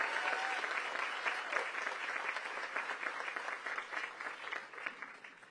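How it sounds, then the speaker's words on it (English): An audience at a hospital ribbon cutting for Cedar Hill Regional Medical Center breaks into applause, a dense, fairly distant clatter of many hands that holds steady and then gradually thins out and fades. "Give her a big round of applause."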